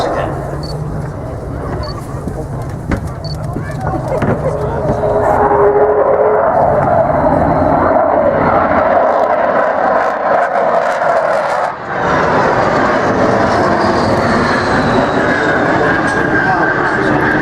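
Avro Vulcan XH558 delta-wing bomber passing at an airshow, a broad continuous jet-engine roar that swells and holds steady, with a brief dip near the end, while someone talks over it.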